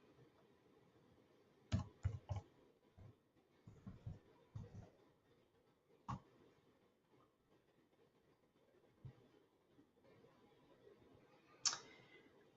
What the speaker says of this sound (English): I'm going to click next, and I'm going to click next again.